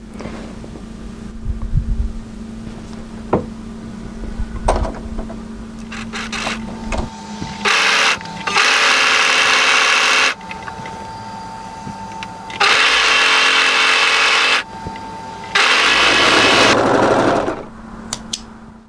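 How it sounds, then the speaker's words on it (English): A sewing machine stitches the centre back hood seam of a hooded jacket in loud, whirring bursts of a few seconds each, separated by quieter handling and fabric rustling. "we're going to sew around the back of the head, the centre back head area, right down to the centre back neck"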